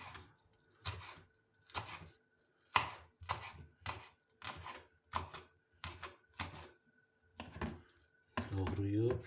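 A knife chops coriander and basil on a board for a shepherd's salad, about ten evenly spaced crisp chops that are close and quiet, with a voice at the end.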